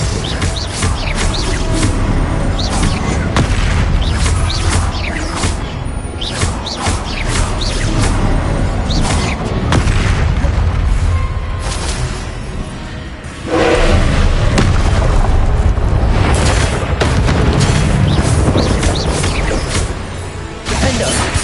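Confringo explosive spells blast again and again in Hogwarts Legacy combat, loud booms and thuds layered over dense, busy game effects and chirping sounds for the whole stretch.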